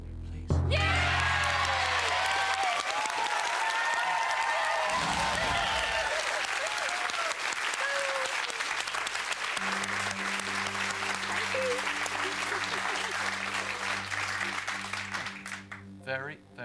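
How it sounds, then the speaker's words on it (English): A television game show studio audience bursts into sustained loud applause and cheering, with whoops and shouts over the clapping, fading out toward the end. "I want to hear them cheer."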